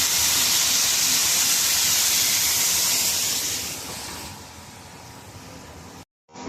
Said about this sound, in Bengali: এখন আমি পরিমাণ মতো জল দিয়ে দেবো।